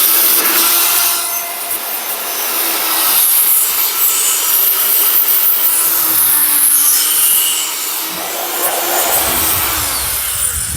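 A power tool grinds thick surface rust off the rear suspension of a Jaguar XKR. The harsh, loud abrasive whine runs continuously and rises and falls slightly as the tool moves across the part.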